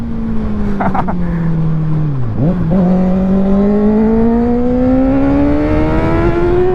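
A Kawasaki Ninja ZX6R motorcycle speeds in 4th gear with a loud, close engine whine. The pitch dips briefly, then climbs steadily as it accelerates, with strong wind rush throughout.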